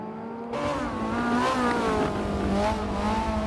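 A Ferrari F430 Scuderia in Forza 7 at the Hockenheimring howls loudly and close, its engine note rising and dropping through shifts as the car powers through a corner.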